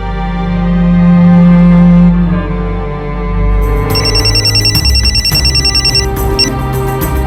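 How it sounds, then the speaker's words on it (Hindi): A telephone rings with a repeating electronic trill, loud and close, following a stretch of low music-like tones. "हाँ सीमा बोल, क्यों बार बार फोन कर रही है?"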